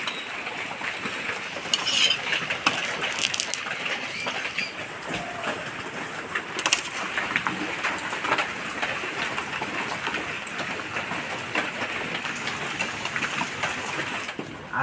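Heavy morning rain pours steadily outdoors while a mother cooks parathas and potato-egg bhujia nearby, the dense hiss broken by occasional clinks of utensils and pans, no talk.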